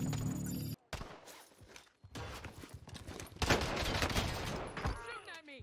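Rapid bursts of gunfire ring out in Call of Duty Warzone, loud clustered volleys broken by brief silences, with game effects mixed in and a voice briefly speaking.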